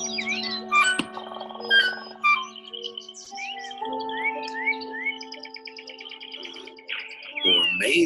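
Songbirds chirp and tweet in a busy run of short calls, whistled trills and rising notes, some near and some farther off, with a few louder sharp calls over a steady background.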